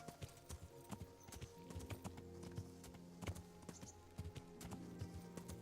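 Horse hooves clip-clop steadily in Kingdom Come: Deliverance, a continuous rhythmic trot at moderate loudness over a low game ambience, with no talk.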